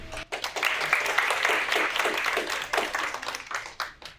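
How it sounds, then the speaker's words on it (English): A poetry slam audience applauds a contestant with moderately quiet, uneven clapping that rises and thins over several seconds, some individual claps standing out near the end. "Please have a round of applause for our next contestant, Hafsa."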